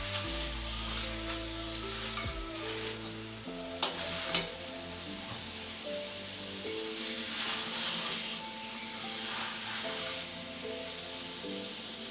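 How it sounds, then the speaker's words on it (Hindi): Roti cooking in an oiled pan with a steady broadband sizzle and crackle throughout, plus a couple of brief clatters and faint background music, no talking. "अब इस तरह हम रोटी को पका लेंगे।"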